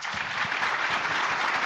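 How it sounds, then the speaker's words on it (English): Steady applause from a conference audience, a dense wash of clapping that holds at an even level throughout. "let's give them another round of applause."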